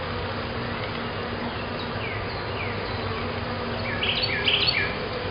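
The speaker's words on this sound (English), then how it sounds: "I've got bees in here." Honey bees hum steadily inside an opened hive during an inspection, a dense continuous buzz with a few brief louder passes of individual bees close by.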